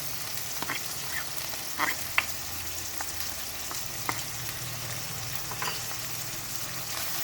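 Chicken fries in a pan as chopped onion is added, giving a constant soft sizzle with occasional clicks and scrapes of stirring, close and steady.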